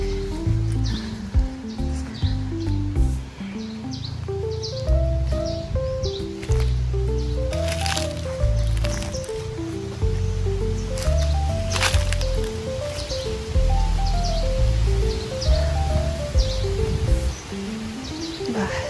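Birds chirp in a quiet coconut farm in Catanauan, Quezon, with repeated short calls over a steady low rumble and rustling, moderately close and continuing throughout, with no one talking.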